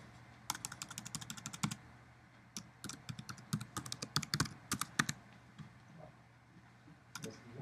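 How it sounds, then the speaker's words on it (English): Someone types on a computer keyboard: quick, close clicking keystrokes come in uneven bursts, with short pauses between runs. "you could start typing in this case, volunteer, actually"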